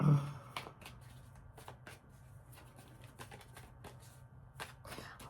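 Tarot cards are shuffled close up in quick papery riffles and light taps that come in irregular bursts, with quiet moments between them.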